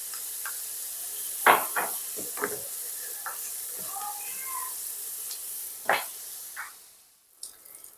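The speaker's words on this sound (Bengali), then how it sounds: "এটাকে একটুখানি ভেজে টমেটোটাও দিয়ে দিলাম।" Tomato added to hot oil for a fish curry sizzles and spits, with a few sharp pops and a faint hiss close by. Scattered clatters are heard, and the sizzle fades near the end.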